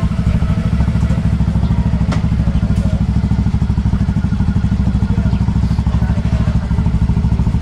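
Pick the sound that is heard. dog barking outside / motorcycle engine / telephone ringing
motorcycle engine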